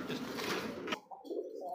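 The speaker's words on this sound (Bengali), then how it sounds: "মাদি চেঞ্জ করার লগে লগে মাদি চেঞ্জ করার লগে লগে ডাকটা দেখেন" A tiger pigeon coos after being paired with a new hen: a dense burst of low cooing under a fuller mixed sound, then a brief drop and a softer, lower coo trailing on, close and fairly steady.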